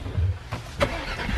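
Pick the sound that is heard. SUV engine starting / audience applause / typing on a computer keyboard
SUV engine starting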